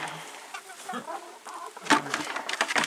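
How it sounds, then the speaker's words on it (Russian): Hens cluck in short, uneven bursts, fairly close, with some rustling and a brief louder squawk near the end. "Вот у меня тут курочки."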